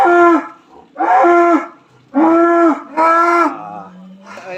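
Large Garut cattle in its stall, lowing loudly and close in four long, deep moos spaced about a second apart, with a fainter fifth call at the end.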